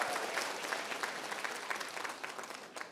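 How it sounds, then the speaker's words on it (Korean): An audience in a lecture hall applauds, a steady dense patter of many hands clapping at moderate volume, fairly far off and without talk. "박수 소리가 너무 작아요."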